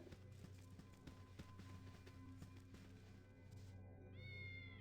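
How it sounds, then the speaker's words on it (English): Several cats meow in the Baldur's Gate 2 video game, faint calls set among game music, footstep-like clatter and ambient effects, with a brighter tonal cry near the end. "I have 3 cats in my possession"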